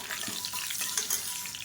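Mustard seeds, urad dal and fenugreek hit hot oil for a sambar tempering, giving a bright, hissing crackle that stays steady and fairly close for under two seconds with no voices.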